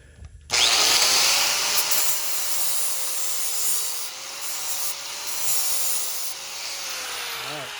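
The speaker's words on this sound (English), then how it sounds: "we're going to need to grind away just a little bit here to even it up with here." A flap disc grinds down metal on a compact motion simulator build, giving a close, continuous whirring grind with a slowly wavering whine that starts abruptly and runs steadily.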